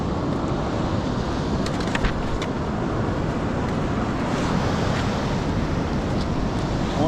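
Ocean waves rushing up a San Diego beach and drawing back during a grunion run at night, a loud continuous wash of surf with some wind noise on the microphone.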